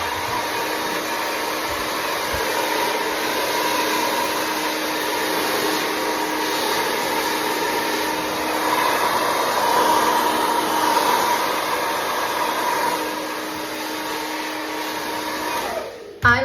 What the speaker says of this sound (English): I like to get my blow dryer when I'm done applying the hair oil.